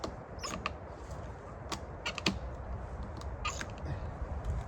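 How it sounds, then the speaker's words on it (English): Two heavy-duty ratchet straps are cranked tight to fix a squirrel feeder around a tree, producing a few quiet creaking clicks in short bursts over faint outdoor background noise. "So we've got the feeder strapped to the tree now. 2 heavy-duty ratchet straps."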